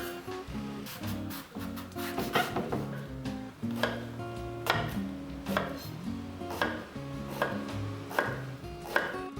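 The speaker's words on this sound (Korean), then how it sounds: "가지를 조금 두껍게 먹기 좋은 크기로 반달 썰게 해주세요." A knife cuts a washed eggplant into thick half-moon slices on a cutting board, giving a steady run of close, crisp chops at an even rhythm.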